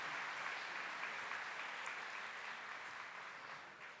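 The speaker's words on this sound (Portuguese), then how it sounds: "Pode aplaudir Jesus Eucarístico." Church congregation applauding at a Catholic Mass, dense sustained clapping from many hands that holds steady and fades slightly toward the end.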